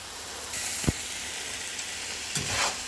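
Vegetables fry in oil for Ghanaian-style fried rice, making a steady close sizzle. Two sharp stirring scrapes cut through it, one near the start and one near the end.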